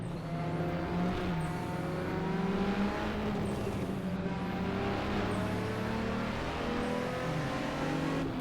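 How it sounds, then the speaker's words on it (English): Race car engine in Assetto Corsa during a 24-hour Le Mans event, a steady, droning high-revving note that shifts pitch through gears, with faint periodic turbo whooshes over the run, continuous and moderately loud, no talk. "I love hearing its turbos just go off"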